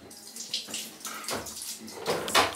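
A shower runs in a bathroom, with water splashing and hissing in uneven bursts that rise and fall at moderate, close-up volume and no speech.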